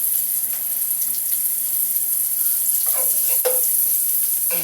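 Sisig sautéing in a hot pan, a loud, steady sizzle and crackle of frying meat with a few scraping stirs of a utensil partway through.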